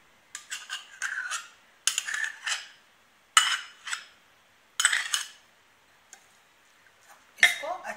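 Vegetable salad being stirred with mustard sauce and mayonnaise, utensil scraping and clinking against a bowl in short repeated bursts, close and fairly clear with pauses between strokes.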